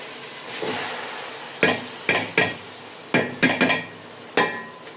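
Polao rice being fried and stirred in a pan after ginger, with a soft sizzle under a handful of sharp scraping and tapping strokes of a spoon against the pan, close up and with no talking.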